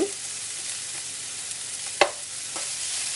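Onions soften in a frying pan for chili, giving a steady close sizzle under a few stirring scrapes, with one sharper clack near the middle and no speech.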